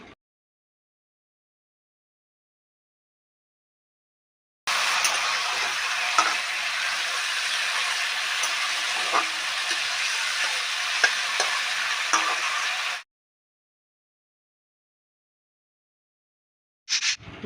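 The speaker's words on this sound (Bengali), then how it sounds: "আমি আলুগুলো আগে ভাজা করে তুলে নেব।" Potatoes sizzle in hot oil in a pan as they are stirred, a steady crackling fry with occasional scraping ticks that runs for about eight seconds between stretches of silence.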